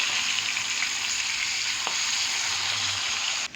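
Boneless fish fries in a pan with a steady, close, hissing sizzle, broken by a faint knock as a piece is turned over and a sharp clatter at the end.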